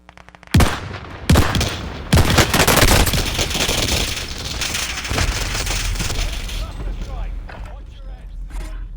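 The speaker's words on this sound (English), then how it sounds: "I forgot my gun was loud." Gunfire from a player's weapon in a Call of Duty match: loud sharp shots at first, then sustained rapid automatic fire under a dense game soundscape, with voices talking over it.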